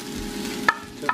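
Cooked rice tipped into a pan of frying broccoli and garlic and stirred, a brief close sizzle with a couple of sharp utensil clinks against the pan.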